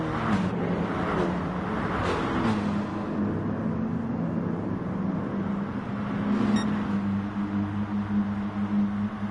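Hot hatch race cars on a speedway roar past in a pack, engines droning and shifting at medium distance, rising and fading as they go by, with a steady motor hum continuing throughout.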